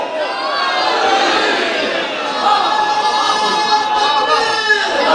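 A crowd at an outdoor Shia majlis gathering in Punjab, Pakistan, answers a religious slogan with a loud, sustained collective chant that fills the air, voices blending into one continuous roar.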